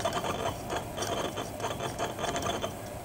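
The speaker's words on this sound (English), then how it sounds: "That sort of grating noise." An ESP32-driven position motor under interrupt-driven PID digital control makes a rough grating, buzzing noise. It is close and continuous, with rapid pulsing and scraping texture and no talk.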